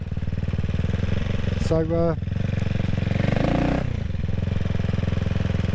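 CCM Spitfire Six motorcycle engine running, a loud steady throbbing idle with a brief rise and fall in revs, while someone talks over it.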